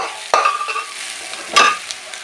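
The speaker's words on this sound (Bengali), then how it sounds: "নাড়াচাড়া করবো এর মধ্যে তো অনেকক্ষণ ধরেই এটা ভাজতে হবে" A spoon scrapes and stirs rice frying in a hot pan for basanti pulao, two distinct louder scrapes over a steady background sizzle, close up with no talking.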